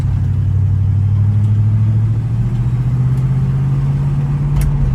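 An Oldsmobile Cutlass Supreme V8 rumbles while driving, a deep steady drone with the pitch creeping slightly upward, loud and close with no voices.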